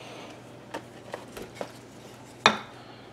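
Cutlery clinks in a kitchen drawer or pile, a few light metallic taps in irregular sequence ending with a louder clatter, close and otherwise quiet.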